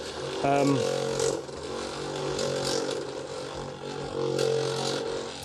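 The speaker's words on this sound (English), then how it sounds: "I think we need to give these a little bit of a shake as well" Loud rattling and clattering of old paint pots being shaken vigorously, a continuous rough churning noise with bursts of intensity, close up.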